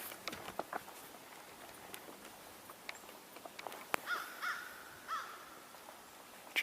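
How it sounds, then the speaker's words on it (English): A crow caws several times at a distance outdoors, short harsh calls near the middle of a quiet stretch. Faint scattered taps and rustles sit around them. "So we're hearing a crow"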